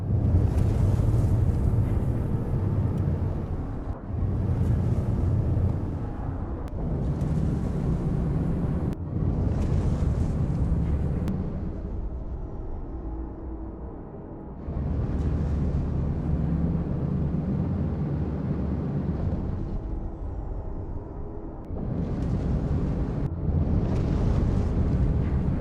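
A spaceship engine in the Star Citizen video game makes a continuous, loud, deep roaring thrust rumble. It swells and dips in surges during lift-off and flight, with no talking over it.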